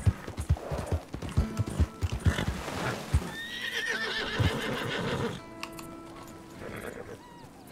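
A horse in Red Dead Redemption 2 gives a loud, rising whinny in the middle, set between hoof clip-clops and a few soft, brief sounds of movement, with a second, quieter neigh near the end.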